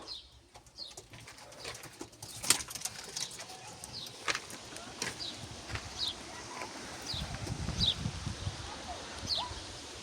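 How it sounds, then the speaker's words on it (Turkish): Pigeons in a backyard coop coo and flap their wings, with soft wingbeat bursts and scattered calls over a steady outdoor background, fairly close and moderately loud. "Güvercinlerimiz."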